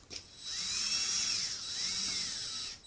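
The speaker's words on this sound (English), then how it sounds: "And I'm screwing these in so there's just about 1/4 inch still sticking out." A power driver sets screws into a wall to hang a painting at the Stanley: a high, steady motor whine runs for about two seconds, then cuts off sharply. It is close and loud with no voices.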